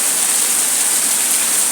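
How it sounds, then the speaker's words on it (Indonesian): Heavy rain pours steadily in late afternoon, a dense, even wash of broadband hiss with no breaks, close and fairly loud, with no voices. "dijatuhi hujan yang cukup deras dari tadi, sekitar setengah jam lalu"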